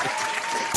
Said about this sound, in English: Round of applause to Carlos Diaz.